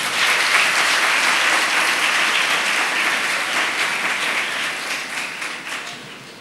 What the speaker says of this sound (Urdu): اس کے لیے تالیاں لگائیں